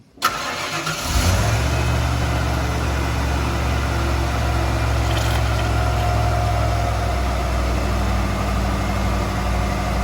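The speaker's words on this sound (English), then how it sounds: "So let's turn the truck on and drain everything out." A 1995 Ford F-150 pickup engine cranks and starts, then settles into a steady, loud idle that rumbles continuously and close by.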